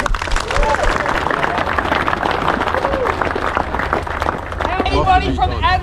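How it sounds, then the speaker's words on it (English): Crowd at a motorcycle charity ride gathering applauds, loud mixed clapping with cheers and voices chattering throughout, a few whoops rising near the end. "Can we give these guys a clap for coming?"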